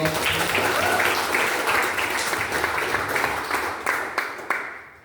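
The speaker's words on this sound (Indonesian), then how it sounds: "Tepuk tangan untuk" Audience applause at a lecture on statistical testing in qualitative research, dense clapping from a room of listeners that holds steady, then thins into a few separate claps as it dies away.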